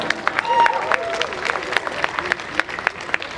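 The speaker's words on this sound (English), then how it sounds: "Can I ask you guys to give a huge round of applause to them?" Crowd applause for medical professionals at an outdoor community walk event, scattered clapping with sharp individual claps and a brief cheer, some voices audible beneath it.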